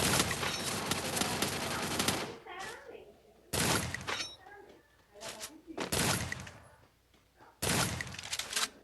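Bursts of rapid gunfire in a shooter video game, loud and dense, coming in several long volleys separated by short gaps with a voice talking in between.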